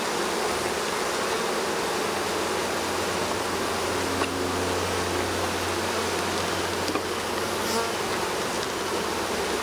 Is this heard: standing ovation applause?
no